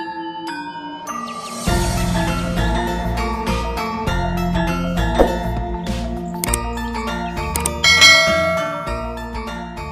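Bright layered bell chimes ring out as a notification-style effect, a short soft tone at first, then a loud burst of overlapping metallic dings and tinkles with a final swell near the end.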